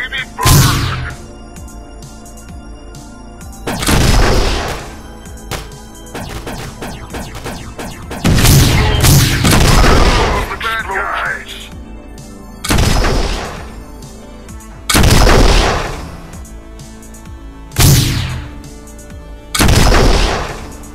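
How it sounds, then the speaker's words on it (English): Repeated explosion blasts in a robot transformation video game, about six loud bursts arriving every few seconds with quieter gameplay sound between them. "Explosions!"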